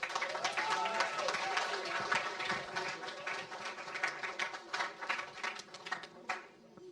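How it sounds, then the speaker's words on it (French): A church congregation at a Father's Day service claps in sustained, dense applause with voices mixed in, the clapping tapering off near the end. "On applaudit bien fort."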